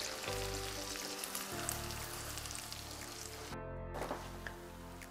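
Croissants fry in butter and honey in a pan, giving a steady, close sizzle with a faint low hum underneath, continuous throughout with no voices.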